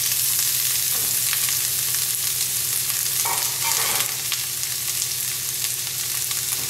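Coarsely chopped onions, bias-cut celery and anchovy sautéing in olive oil over medium heat, a loud steady sizzle with a few brief clinks of stirring near the pan, with no speech.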